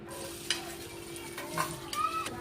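Onions fry in a pan for an egg and tomato curry, producing a continuous sizzle with a spatula scraping and clinking as they are stirred; no one speaks.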